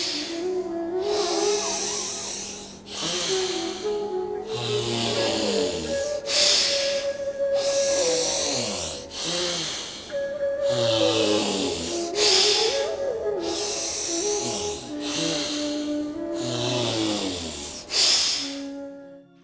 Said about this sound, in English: Inhale through the left nostril. Close the left nostril and exhale through the right.